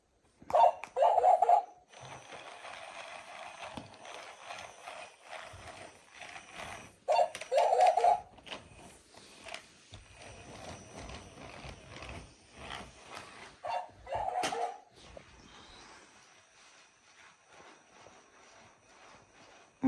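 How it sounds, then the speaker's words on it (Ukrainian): Several dogs bark in short clustered bursts, loud and close, with quieter yips and rustling between volleys. "Оце в тебе песиків багато."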